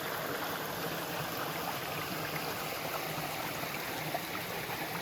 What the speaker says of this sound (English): This little brook coming down.